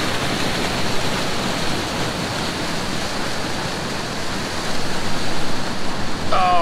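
Flowing current of the Snake River rushes steadily as a broad, continuous wash of water noise, close and loud throughout, with a brief higher sound at the very end.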